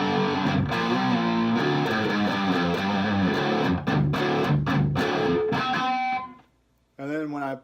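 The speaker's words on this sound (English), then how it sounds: "This is just the overdriven tone straight from the amp." Overdriven electric guitar on a Paul Reed Smith through a restored, once flood-damaged cabinet, chords ringing loud and sustained with a few clipped stops, then a pause and a short final burst of notes.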